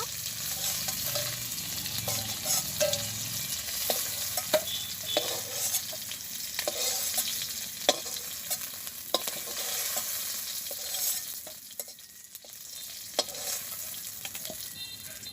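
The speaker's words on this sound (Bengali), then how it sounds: "এখন বাকি মাছগুলো দিয়ে দিচ্ছি" Fish frying in hot oil in a village kitchen, a steady close sizzle running throughout with frequent sharp pops and crackles, stirring scrapes, and no talk.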